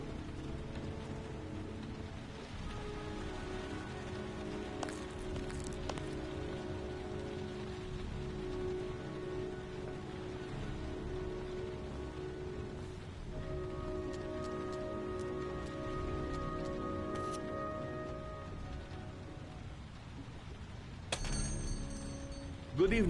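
Steady rain patters on a surface throughout, with a faint mechanical clunk near the end.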